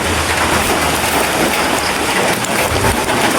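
Heavy rain pours down steadily in a deserted ghost town in Davao de Oro, Mindanao, a loud, dense, unbroken hiss of drops drumming on surfaces close by, with no voices.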